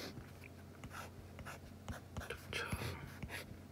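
A pen drawing a piston diagram on paper: soft, quick scratching strokes in short bursts, faint and close, in a quiet room with low background hum.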